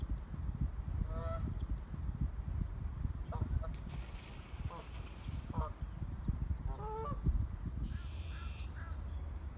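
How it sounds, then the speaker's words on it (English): A goose honks repeatedly in short bursts of calls over steady outdoor background noise, likely wind and water, during a fishing outing by a river. "like this goose coming in for a landing."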